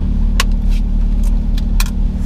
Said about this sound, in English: cars are all rolling in and it's looking pretty cool